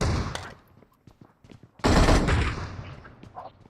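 Gunfire in PUBG Mobile: scattered single shots in the first half, then a loud sustained burst of rapid fire that trails off, with no talk over it.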